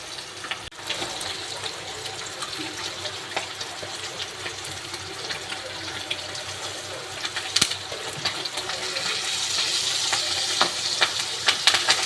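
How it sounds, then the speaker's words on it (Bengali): Small roe-filled rohu fish frying in oil in a wok, a steady close sizzle with sharp pops and spatters that grow busier toward the end, with no talking. "এবার মাছটা লাল করে ভেজে নেব"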